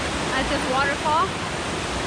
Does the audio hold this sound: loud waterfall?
yes